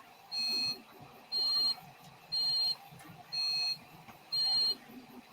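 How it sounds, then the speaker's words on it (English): An electronic buzzer on a Simon game build sounds one steady tone in five evenly spaced beeps, each about half a second long with short gaps between, moderately quiet with faint background murmur. "I just swapped the buzzer to the other type, yeah."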